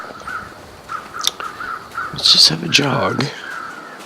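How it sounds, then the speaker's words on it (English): Crows cawing in the survival video game The Long Dark, a few harsh caws rising over a quiet outdoor ambience, with someone talking over them. "So do see some crows out there."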